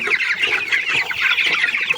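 Several chickens clucking close by while being fed fermented feed, a busy overlapping chatter of short bright clucks with no pauses.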